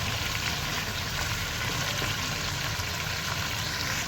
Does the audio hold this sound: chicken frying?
yes